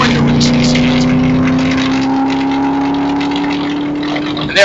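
Ford Mustang race car engine at speed on a high-speed straight, a loud steady drone with a slowly rising pitch throughout, heard from close by.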